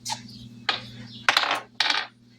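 A single die rolled across a table during a savings game, giving a few short, close clattering bursts spaced about half a second apart.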